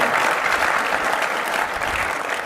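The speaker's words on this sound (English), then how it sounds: "Let's give a huge round of applause to all of our panelists here." An audience at a sports analytics conference panel claps steadily and fairly loudly for the panelists, a dense, continuous wash of applause from a hall crowd.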